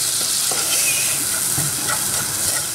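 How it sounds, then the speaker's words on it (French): Melted butter sizzles steadily in a small pan for a béchamel sauce, a continuous close fry hiss with occasional soft stirring clicks and no voices. "J'ai mis du beurre fondu dans une petite plaque."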